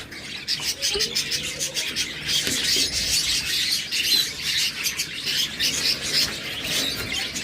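Huge numbers of Bazigar pigeons at a crowded bird market, dense overlapping chirps, coos and squawks forming a steady loud chorus with no clear gaps, no speech.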